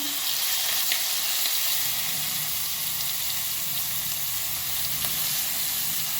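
Green chili and garlic paste frying in hot oil, a steady close sizzle with faint stirring clinks, continuous and loud throughout with no voices.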